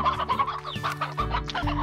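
Chickens cluck in a repeated, chattering run in the video game Slime Rancher, with close, clear fowl calls over a steady tonal game-music backdrop.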